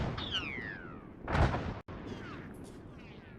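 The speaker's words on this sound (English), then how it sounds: "Something tells me those mortars are a bit pissed off with us" A single heavy mortar blast in a military shooter game erupts midway as a loud, broadband boom, set against steady background noise and faint high whistling tones.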